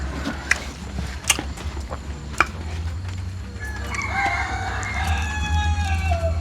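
A rooster crows in the distance over a low steady rumble, with a few sharp knocks early on and no talking.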